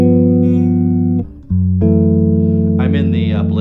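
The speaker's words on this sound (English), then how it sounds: "Now I'm just going to play a few chords on the bass." A Zon Legacy Elite six-string bass guitar rings out sustained chords with both pickups blended. One chord holds, then briefly drops away, and a new chord rings with higher overtones shimmering near the end.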